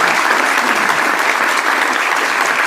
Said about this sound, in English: So if you wouldn't mind giving a round of applause to our panelists.